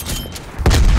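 Grenade explosion in Call of Duty Black Ops Cold War: a short crackling lead-in, then a heavy close boom with deep rumble that carries to the end.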